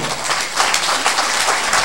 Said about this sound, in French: je voudrais qu'on fasse un tonnerre d'applaudissements pour tout le monde